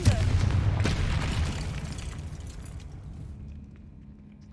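A fire spell in Hogwarts Legacy, Confringo, detonates in a loud, low booming blast at the start, then rumbles and crackles as it fades over a few seconds.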